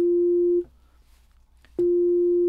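A Roland SH-09 synthesizer with its filter self-oscillating produces a pure sine tone tuned to F. The loud, steady note drops out for about a second, then resumes.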